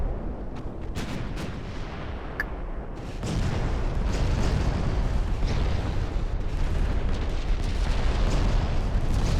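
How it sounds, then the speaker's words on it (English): A torpedo strikes a warship in the naval game Ultimate Admiral: Dreadnoughts, and a deep rumbling explosion swells after a few seconds and keeps roaring loud and continuous to the end, with scattered sharper bangs mixed in. "Ewing got hit by a torpedo."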